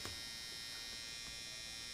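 An electric shaver running with a steady, faint mechanical buzz and hum that holds evenly throughout, with no talking.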